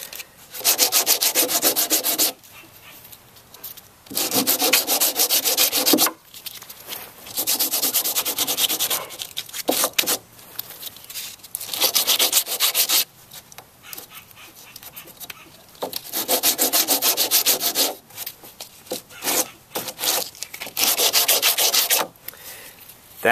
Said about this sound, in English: we're just going to kind of sand this off with some coarse grit sandpaper